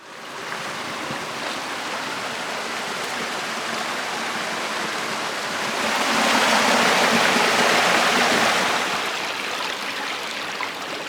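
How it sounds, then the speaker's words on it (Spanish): A small waterfall on the Palancia river near its source rushes and splashes steadily, a broad continuous roar that swells louder midway, heard alone without speech. "voy pegado al río y está aquí abajo por el sendero y se ve una cascadita ahí"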